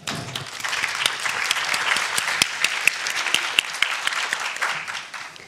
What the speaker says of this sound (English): please give our next round of speakers a very warm welcome applause